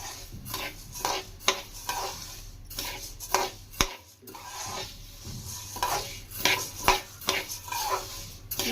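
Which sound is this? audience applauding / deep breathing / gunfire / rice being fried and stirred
rice being fried and stirred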